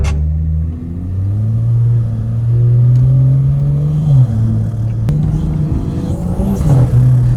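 A 500 hp BMW 340i engine roars steadily up close while drifting in snow, its pitch rising and dipping as the throttle shifts, with brief knocks partway through.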